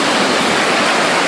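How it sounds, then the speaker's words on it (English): A steady, loud roar of falling water near a small homemade waterwheel project, a dense continuous rush filling the whole moment with no pauses. "There's the waterfall."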